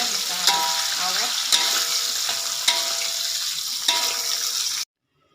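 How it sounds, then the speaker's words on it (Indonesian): Spices and kaffir lime leaves for sambal pecel fry in hot oil with a loud, steady close sizzle, broken by a few sharp stirring scrapes, before the sound cuts off abruptly. "Ini untuk bumbunya saya goreng semua supaya nanti bumbu pecelnya bisa awet."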